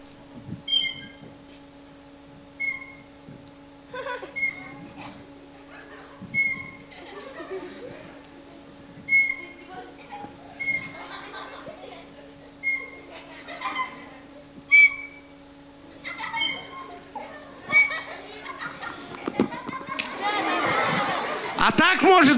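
Boys whistling in short, sharp bursts on cue at a children's university science event, repeated every second or two over a steady hum, with a teacher talking in between and a noisy burst of sound at the end.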